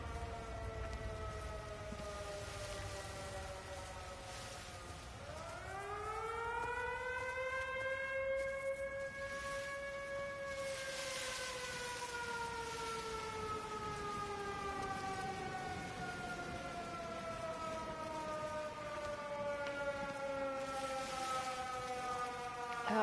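A long wailing siren at a mill in a video game rises and falls slowly, its tones sweeping up and down over a steady rumble, distant and droning without pause.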